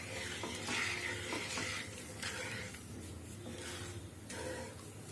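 A spoon stirs sugar syrup in a pan while making gulab jamun, giving a steady soft scraping and swishing with faint bubbling hiss, close and moderately quiet, with no talking.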